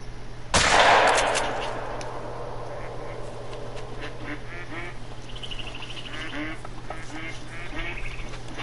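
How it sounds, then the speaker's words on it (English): A loud gunshot cracks out in the hunting game The Hunter: Call of the Wild, followed by a duck quacking several times at moderate distance against quiet outdoor ambience. "There's a duck, see?"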